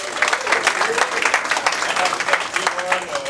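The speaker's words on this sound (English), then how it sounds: "so let's give her a round of applause" An audience at a high school athletic hall of fame induction claps steadily, a moderately loud, even patter of many hands sustained throughout without pause.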